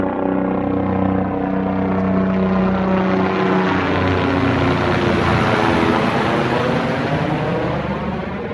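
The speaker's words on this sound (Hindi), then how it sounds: "ये हेलीकॉप्टर सेवा चल रही है।" A steady, loud helicopter engine drone with layered harmonic tones, a helicopter service flying nearby near Mana village in Uttarakhand's mountains, continuous throughout with no voices.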